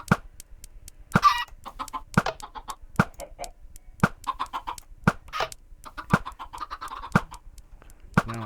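Minecraft chickens on a chicken farm in a video game, clucking in repeated short bursts punctuated by sharp, evenly spaced clicks roughly once per second, close and clear without speech.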